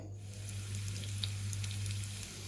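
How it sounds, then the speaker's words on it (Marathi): Steady sizzling hiss of green chilies frying in hot oil, with scattered small crackles and a low hum underneath, no voices. "ही मिरची आहे ना ते आपल्याला तेलामध्ये चांगली तडतडून घ्यायची आहे"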